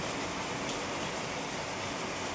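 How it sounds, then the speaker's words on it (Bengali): A downpour of heavy rain fills the scene with a constant, loud, broadband rush of falling water, unbroken from start to finish and free of speech. "পুরো বৃষ্টি নেমে গেল, আর মানে পুরো জোরে বৃষ্টি হচ্ছে।"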